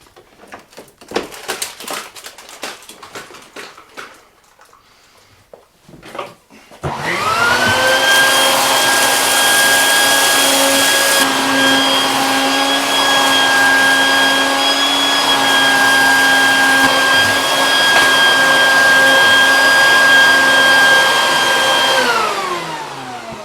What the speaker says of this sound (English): first step is actually going to be vacuum this all up and get all this glass out of here